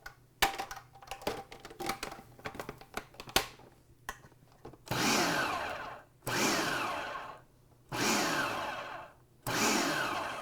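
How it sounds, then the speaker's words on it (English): Green tomatoes ground in an electric grinder for salsa verde, a few choppy start bursts then four loud whirring pulses of about a second each, close and alone. "I'm going to grind these up."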